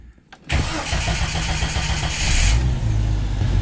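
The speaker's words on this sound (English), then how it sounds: "This is the first start after the new starter." A Jeep YJ Wrangler with a newly fitted starter, in neutral on a cold start, cranks briefly and fires at once, then settles into a loud, steady idle close by.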